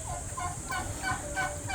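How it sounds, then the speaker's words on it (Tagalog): A turkey gobbles in a rapid, warbling burst of repeated notes, fairly close, over a steady background hum. "Oo, may pabo."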